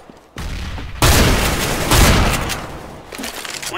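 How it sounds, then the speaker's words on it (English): A grenade thrown and exploding in a video game: a short thump, then a loud sustained blast that rumbles on for about two seconds and fades. "Throwing a grenade."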